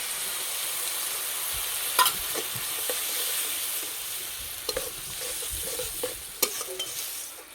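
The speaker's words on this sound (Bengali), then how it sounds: "দেবো ফেটানো টক দই।" Whipped sour yogurt going into a sizzling spice masala with chilli powder and a little water, a steady hiss of frying with a few sharp clinks and stirring scrapes from a spoon against the pan, no voices.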